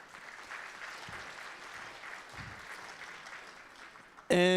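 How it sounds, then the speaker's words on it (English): Faint, distant-sounding applause from guests at a fundraiser breakfast holds steady for several seconds, then a speaker's voice cuts in loudly at the very end. "you can give a big round of applause for that one"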